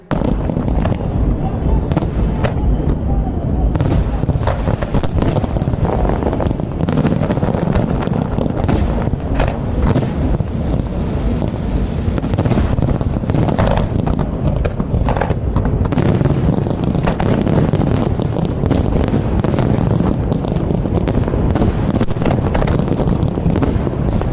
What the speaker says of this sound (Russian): 30 августа в Казани прозвучал праздничный салют